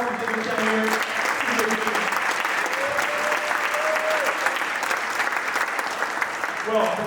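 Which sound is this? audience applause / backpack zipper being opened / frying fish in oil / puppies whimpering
audience applause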